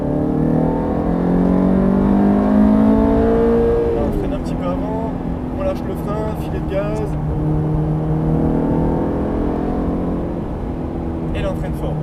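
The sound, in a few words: race car accelerating on Mettet circuit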